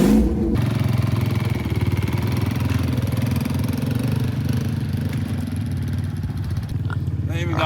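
A car engine idles close by in a steady, loud, throbbing rumble with a rapid pulse that continues throughout, with light rattling near the end.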